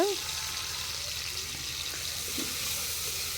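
Onions, curry leaves, ginger and garlic frying in a pan for a goat trotter or chicken gravy, giving a steady low sizzle with faint stirring, under a quiet background.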